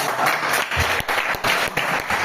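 A round of applause from a gathered audience, dense and close, with clapping rising and dipping in waves throughout.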